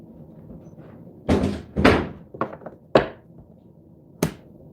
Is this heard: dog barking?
no